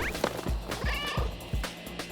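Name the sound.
cat meowing as it splits in two, Schrodinger's Cat Burglar video game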